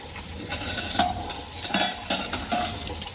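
Dishes being washed in a home kitchen, with close clinks and scrapes of utensils and pots repeating at an uneven pace over a steady wash of running water, no voices.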